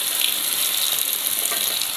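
Chicken wings frying in hot oil in a Dutch oven, a loud, dense, continuous bubbling sizzle close up, with no voices.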